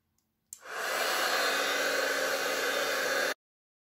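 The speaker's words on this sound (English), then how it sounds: "Then we bring in our heat tool and then we heat that up" A heat tool blows steadily for about three seconds, a loud, even hiss warming embossing powder on a card, starting abruptly and cutting off cleanly.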